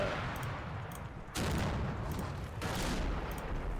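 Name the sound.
gunfire in the video game Combat Mission Final Blitzkrieg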